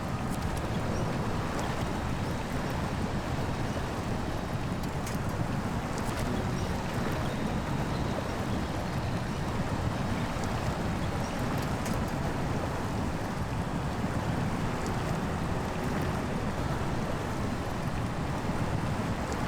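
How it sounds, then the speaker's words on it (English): Water rushes in a steady, broad wash with no break in SnowRunner, an off-road truck game, around a Tatra truck on a Yukon ore run, and no one speaks over it. "So soothing, by the way, the sound of water"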